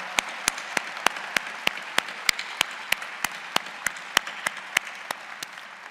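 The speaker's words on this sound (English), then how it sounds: "Let's give them a loud round of applause" Audience applause at a Virginia Commonwealth University December commencement ceremony: a steady bed of crowd clapping with one close, evenly paced clapper standing out above it throughout.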